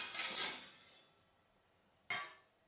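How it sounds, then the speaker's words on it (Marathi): A metal lid set down on a kadhai in a home kitchen gives a sharp clatter near the start, then a second brief metallic clink about two seconds later, close and fairly loud against a quiet room. "झाकण ठेवते आणि कढईमध्येच भाजी ठेवणार आहे"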